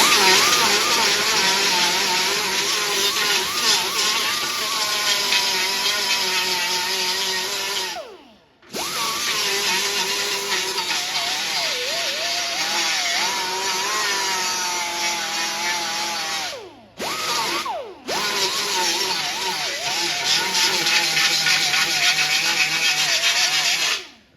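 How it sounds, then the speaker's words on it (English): A power grinder works the welded edge of a steel front valance on a 1949 Studebaker, a loud steady whine that cuts out briefly twice as the tool lifts off the metal. "So let's grind that edge, see what it looks like."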